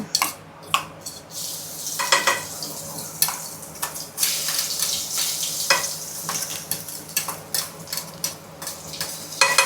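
Ground masala paste frying and being stirred in a large kadhai, heard as loud, close sizzling with repeated scraping and clinking strokes of a spoon against the pan, and no talking.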